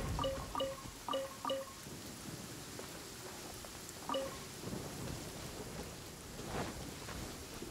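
Heavy rain pours steadily in Genshin Impact, a dense hiss with a low thunder rumble rolling in near the end and a few bright chime-like tones early on.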